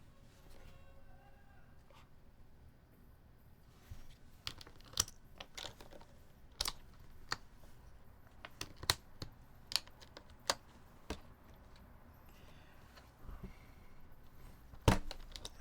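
Mechanical keyboard keys are tested one at a time with different keycaps, giving sparse, sharp clacks at irregular intervals over a quiet room, growing slightly louder toward the end.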